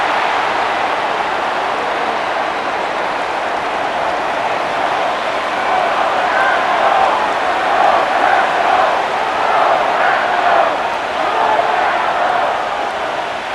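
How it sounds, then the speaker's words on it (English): Stadium crowd noise from the Madden NFL 25 football game, Chicago Bears versus Green Bay Packers, a steady broad roar that swells a little toward 3rd down and holds loud throughout. "This crowd into it now as we get to 3rd down."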